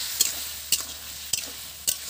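Ground coriander and black pepper fry in a pan for a cauliflower, potato and pea dish, with a spoon scraping through them four times over a constant low sizzle, close and loud.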